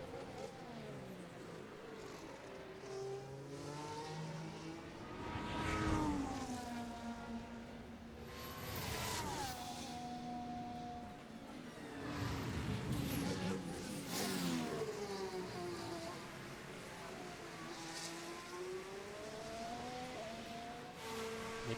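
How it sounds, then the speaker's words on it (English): A race car in a racing video game on a flying qualifying lap at Abu Dhabi, with the engine revving up and down repeatedly through gear changes and corners, moderately loud and continuous. "Let's see Nick Bayer's lap now as he starts"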